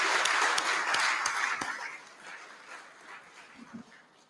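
A conference audience at an opening session gives a round of applause for an absent awardee. The clapping starts full and dense, then thins and fades over the next few seconds, leaving scattered claps and a murmur of voices.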